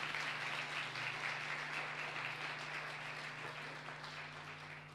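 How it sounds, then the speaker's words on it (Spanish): A church congregation applauds in praise, a steady wash of many hands clapping that fills the room evenly and slowly fades a little toward the end, with no voices standing out. "Denle un aplauso a Cristo por esto."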